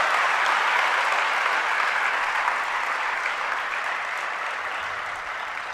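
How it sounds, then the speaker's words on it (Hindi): A congregation at a Jain religious discourse applauds steadily, a dense wash of clapping holding at a constant level and fading slightly toward the end. "आप कम से कम ताली बजा करके उनके पुण्य की अनुमोदना तो अच्छे से कर सकते हैं।"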